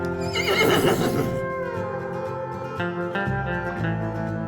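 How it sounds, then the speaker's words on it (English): Icelandic horses neigh outdoors, one loud, close whinny with shaky tremolo followed by fainter, shorter calls and some low shuffling. "look what we found. Icelandic horses."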